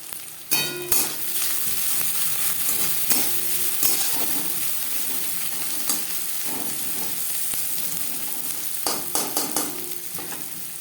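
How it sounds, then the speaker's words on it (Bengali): Chopped onions fry in hot refined oil for begun bhaja, a loud steady sizzle and crackle, close up, punctuated by a few sharp utensil clinks against the pan. "তেল গরম হয়ে গেছে এবার দিয়ে দেবো পেঁয়াজ কুচি"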